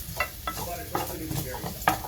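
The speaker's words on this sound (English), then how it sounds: "You can hear it sizzling here in the pan." Garlic and ginger sizzle quietly in a pan in a home kitchen, with a soft steady frying hiss and a few faint clinks of stirring.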